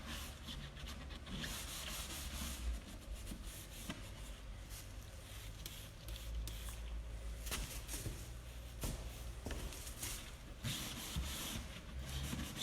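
Steady scrubbing of a grit-embedded nylon pad over wood while stripping shellac, a close, continuous abrasive rubbing with faint rhythmic strokes and a low background rumble.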